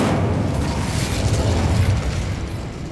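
An Incendio fire spell cast in Hogwarts Legacy, a loud sustained whooshing roar of flame that rumbles for a few seconds and slowly fades, heard alone with no talking.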